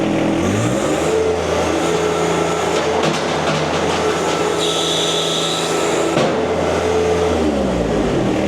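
Engine fitted with a HydrosPlus hydraulic performance kit, revving loud and close as the throttle is opened, rising and falling in pitch over a steady mechanical drone.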